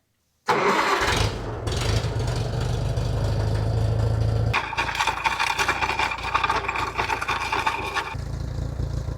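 A tractor engine cranks and catches, then runs steadily with a loud rumble and shifts to a rougher, rattling tone as it starts pulling a plow for digging sweet potatoes, with no voices over it.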